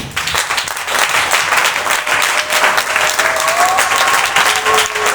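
A church congregation bursts into loud, sustained applause with scattered cheering, a dense roar of many clapping hands filling the room for several seconds.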